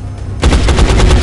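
A loud, rapid burst of automatic gunfire in XCOM: Enemy Unknown that starts abruptly after a moment of quiet and rattles on steadily to the end.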